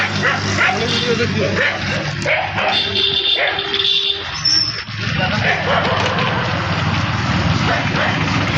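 Dogs barking and yipping in short bursts at Ramdevra, mixed with whimpers and a buzzing tone, with people talking over them.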